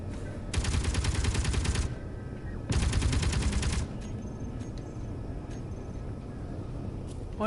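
Automatic gunfire in a video game comes in two loud, rapid bursts of about a second each, separated by a short gap, over a quieter background.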